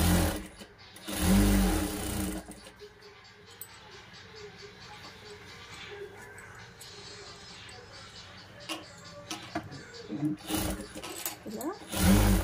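A sewing machine stitching a blouse seam runs at a steady, moderate volume for several seconds, with someone speaking over it at the start and again near the end.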